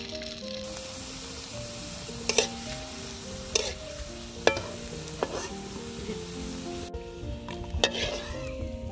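Pitha frying in oil in a Bangladeshi home kitchen, a steady sizzle running throughout with a few sharp clinks of a slotted spoon against the pan.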